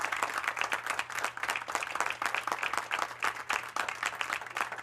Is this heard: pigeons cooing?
no